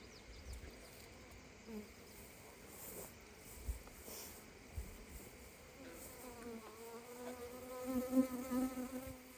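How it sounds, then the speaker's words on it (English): Honey bees buzzing in an open hive during an inspection after a swarm, a soft continuous drone close by with a louder, rising hum near the end. "Still lots of bees here, so even though they swarmed, they didn't hurt the population too much."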